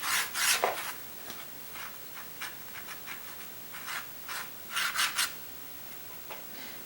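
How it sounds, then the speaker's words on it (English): The back of a paintbrush is dragged across watercolor paper in short, close scratchy rubs, an irregular series of dry strokes with quiet pauses between. "with the back of my brush, I'm just gonna drag my brush across"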